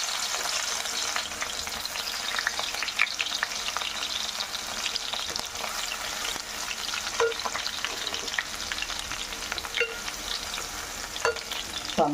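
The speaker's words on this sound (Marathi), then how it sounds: "फोडणीला आपण लसूण टाकूया।" Garlic sizzles and crackles in hot oil in a pan for a tempering, a steady dense frying hiss with occasional pops and stirring, close and continuous with no voices.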